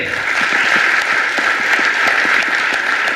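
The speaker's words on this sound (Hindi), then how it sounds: "जोरदार ताली बजाइए" An audience bursts into loud, sustained applause, dense clapping from many hands that holds steady throughout.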